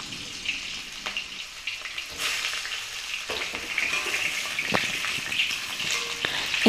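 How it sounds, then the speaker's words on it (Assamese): Pointed gourd and potato pieces fry in hot oil, a close, continuous crackling sizzle broken by sharp spatters and clinks of stirring, no voices. "তেলখিনি গৰম হৈ অহাত মই পটল আৰু আলুখিনি আগতে ভাজি লম"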